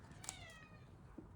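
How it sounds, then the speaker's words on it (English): A pet cat meows once close by, a short rising cry early on, then gives a faint, low little chirp near the end against a quiet indoor room. "Sorry for my cat."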